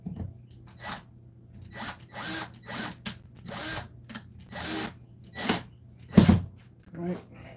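Power drill driving a couple of screws into the frame of an outdoor projector screen, short whirring bursts repeating through the clip, fairly close and loud, with a voice speaking in between.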